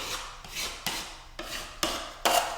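Putty knife scraping excess filler off drywall over screw pops, six short rasping strokes in a steady rhythm, close and fairly clear with no talking.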